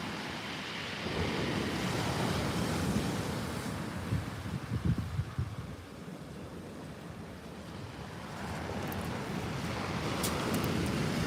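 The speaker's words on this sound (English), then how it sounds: "you get the waves going back on itself" Sea waves break and wash steadily against the shore at Hayling Island, a continuous close roar of surf with gusts of wind noise and no voices.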